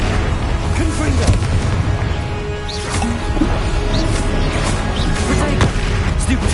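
Confringo spell blasts from Hogwarts Legacy on PS5 rumble through a dense, loud stream of game sound, with booms and crackling bursts layered over one another and a voice mixed in.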